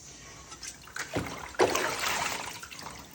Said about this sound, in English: Rinse really good because I'm tilting the plate now.